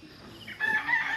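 A rooster crows amid chickens outdoors in a subdivision, one brief, fairly faint call rising over quiet background noise.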